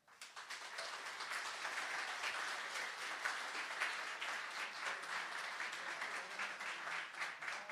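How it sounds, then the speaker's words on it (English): An audience at a political conference gives a sustained round of applause for Tom Perez as he leaves. The dense, even clapping rises quickly and holds steady for several seconds. "one more time as Tom Perez leaves, give him a round of applause"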